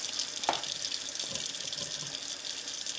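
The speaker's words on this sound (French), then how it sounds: "on fait couler l'eau" Water runs steadily from a kitchen tap while a rotary cheese grater is being cleaned, a continuous close hiss and splash with one small clunk near the start.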